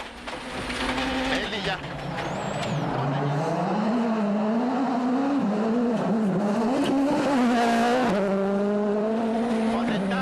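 A rally car at full throttle on a narrow gravel forest stage at WRC Rally Australia 2011, its engine note rising and falling through gear changes, loud and close with gravel spray underneath.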